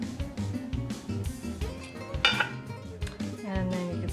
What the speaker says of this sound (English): So I'm going to stir it, and then here, I'm going to pour it in.